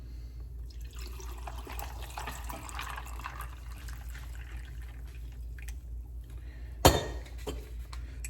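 Fresh hot sun tea is poured into glasses of ice, a soft steady trickle of liquid with a sharp clink near the end, close and fairly quiet.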